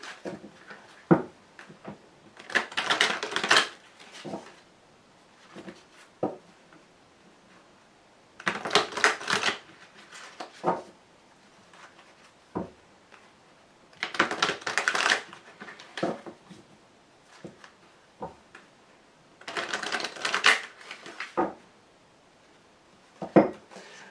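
Wicca tarot cards are shuffled by hand, heard as four separate bursts of riffling and clattering, each lasting a couple of seconds, with soft taps and knocks between them and quiet pauses in between.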